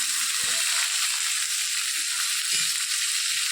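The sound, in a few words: cinnamon, cardamom and bay leaf sizzling in hot oil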